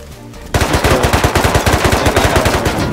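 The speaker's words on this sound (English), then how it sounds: "A couple shots." Rapid automatic gunfire in the survival game Rust, a loud continuous burst of closely spaced shots after a brief quiet start, with no talking.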